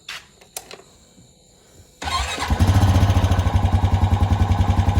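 A Honda Rancher ATV engine catches after a couple of faint starter attempts and then runs loud and close, with a steady rapid low thump and a busy mechanical clatter.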